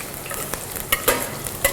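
Onions frying toward golden in a pan, a continuous close sizzle with a few sharp stirring clicks and scrapes of a utensil against the pan, no voices.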